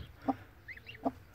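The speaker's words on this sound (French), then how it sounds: "c'est notre petite poule naine qui a aussi deux œufs à couver" Small bantam hen brooding two eggs, giving a few soft low clucks spaced apart, close and faint.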